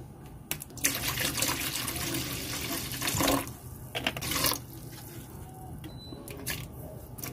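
Hot boiling vinegar poured over vegetables for Filipino atsara, a steady splashing, rushing pour that swells and fades over several seconds with a few louder surges, close by.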